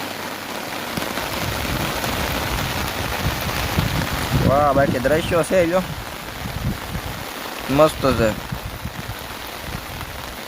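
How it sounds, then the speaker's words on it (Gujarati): Steady rain falling in the Gir forest countryside during a monsoon shower, a continuous close hiss of drops on surfaces; someone speaks excitedly over it midway and again near the end. "જો વરસવાનું થઈ ગયું ચાલુ"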